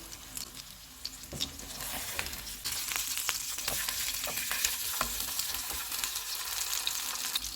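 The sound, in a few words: salmon fish frying in a pan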